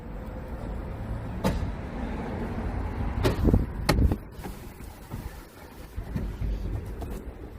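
The electric tailgate of a Skoda Superb 1.5 TSI SportLine Plus estate in operation: a low motor hum runs under a series of sharp clicks and latch thuds, with a heavier clunk near the middle, recorded close up.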